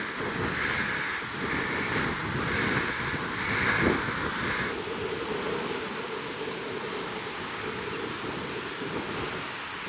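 Strong wind buffeting on a cliff top overlooking a lake, a continuous roaring rush with gusty surges, loud and close to the microphone, with no talking.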